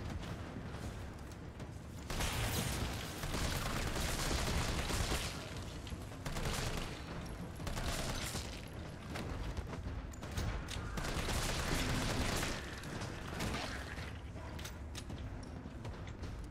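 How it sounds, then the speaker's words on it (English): Rapid gunfire bursts from the Resident Evil 3 remake video game while zombies are shot, several dense volleys with short pauses between them, loud and continuous across the stretch. "I love shooting the shit out of zombies."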